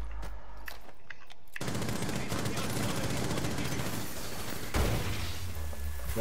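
Rapid automatic gunfire rattles on without a break in a Rainbow Six Siege match, shots fired through a wall, loud and continuous after a quieter opening.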